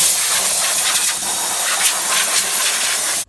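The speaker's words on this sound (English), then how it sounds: "we can take some shop air and just blow off the top of the motor" Compressed shop air blasts over the top of a Ford 6.2 engine around the spark plug wells, a loud, close, continuous hiss that stops sharply at the end.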